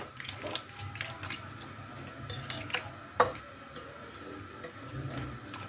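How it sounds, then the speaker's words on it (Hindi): Spanish omelette ingredients being stirred together in a bowl, with faint, irregular clinks and light scrapes of a utensil against the dish over a quiet room background. "अच्छी तरह से मिक्स कर लेंगे।"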